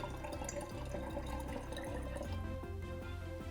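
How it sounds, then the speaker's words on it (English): Coloured water poured into clear oil in a container, a soft, steady trickle and light dripping heard up close against a continuous low background hum. "as I pour those colours in, the water and the oil stay separate"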